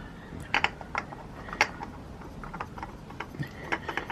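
A new oil filter is screwed by hand onto a Suzuki GSXR 600 motorcycle, giving soft scattered clicks and ratcheting ticks close by against a quiet background.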